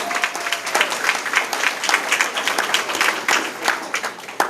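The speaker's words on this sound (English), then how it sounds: "Please, a round of applause for our board of directors." Audience at a chamber of commerce new member showcase applauds the board of directors, with steady dense clapping throughout, fairly close and sustained without talk.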